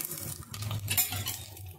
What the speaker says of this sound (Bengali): নারকেলগুলো দিয়ে একটু ভালো করে লাল লাল করে ভেজে